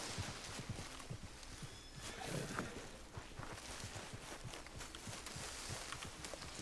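Horse in Red Dead Redemption 2 played in VR mode, faint steady clip-clop of hooves walking in a repeating rhythm over a low background hiss, no talking.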